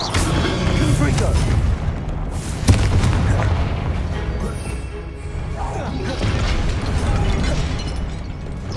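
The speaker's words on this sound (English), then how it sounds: "Confringo!" A Confringo explosion spell cast in the Hogwarts Legacy video game, a loud booming blast with a sustained heavy rumble and a sharp punchy burst partway through, alongside game sound effects.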